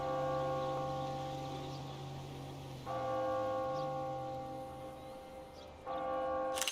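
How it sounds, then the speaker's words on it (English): Church bell in the video game GTA V chiming, with repeated sustained tonal strikes ringing out and decaying, a new stroke arriving about every three seconds over a low steady hum. "The church bell chimes every hour, even though the church itself does not have a clock."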